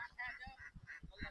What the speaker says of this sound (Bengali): চলুন আমরা একটু চীনা হাঁসগুলো দেখার চেষ্টা করি